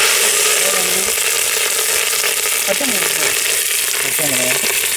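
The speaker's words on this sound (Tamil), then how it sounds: "சீரகம் சோம்பு வெந்தயம் நல்லா கருகணும் கருவேப்பிலை" Cumin, fennel, fenugreek and curry leaves frying in hot oil for a fish curry, making a loud, dense, continuous close sizzle with faint crackles and occasional stirring throughout; no talk.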